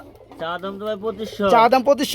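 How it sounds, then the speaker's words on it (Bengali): A pair of Lotan pigeons coo in a rolling, throaty burst close up, the calls continuing without pause while people talk nearby. "কত সুন্দর একটা পিয়ার লুটন কবুতর বিগ সাইজ ডিম সহকারে"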